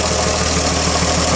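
A newly built engine in a 1933 Chevrolet runs steadily and loudly up close, a continuous rough idle with a throbbing low pulse throughout.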